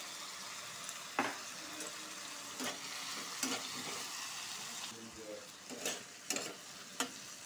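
Potatoes fry in a pan with salt and a little turmeric for a poppy-seed potato dish, giving a steady close sizzle broken by several sharp scrapes and clacks of stirring.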